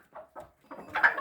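A hen, a young one hatched in October, gives a few soft, separate clucks, then a slightly louder, busier burst of clucking close by in a quiet pen, with no talk.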